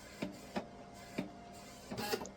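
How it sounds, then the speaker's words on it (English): An edible ink printer printing a design for decorated cookies, giving a quiet, steady mechanical hum broken by several short whirring pulses of the print head moving, close and faint, with no talking. "I am printing a design using my edible ink printer"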